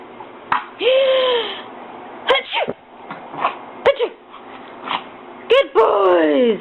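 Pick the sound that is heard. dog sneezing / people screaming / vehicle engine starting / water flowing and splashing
dog sneezing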